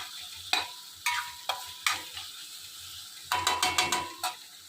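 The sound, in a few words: masala roasting and stirring in pan for misal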